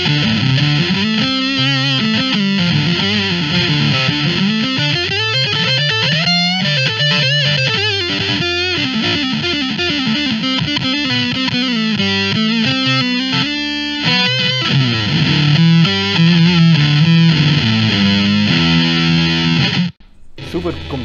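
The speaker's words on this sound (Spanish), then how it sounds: "Yo toco una nota aguda, tira la octava más abajo, ¿cierto?" An electric guitar played through an Octofuzz octave fuzz effect in AmpliTube X-Drive gives a thick, buzzy, distorted tone with a lower octave doubling the notes, sounding loud and continuous for about twenty seconds before cutting out briefly.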